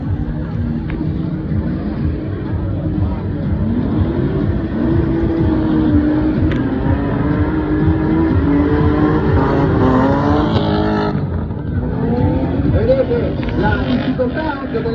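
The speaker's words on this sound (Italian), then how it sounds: "Adesso vediamo girare in questo carosello la prima tornata dei BMW." BMW rally cars lap the Misano arena circuit, their engines droning and revving continuously at a distance beneath a commentator's voice and crowd babble.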